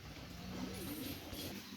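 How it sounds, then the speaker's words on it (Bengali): A male Teddy pigeon coos in low, soft, rolling notes that run steadily through the short stretch, faint against a steady background hiss. "এটা হলো নর কবুতর"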